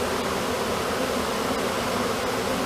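A swarm of bees buzzes densely around a box, a continuous, loud, droning hum with no pauses, close by and with no one speaking.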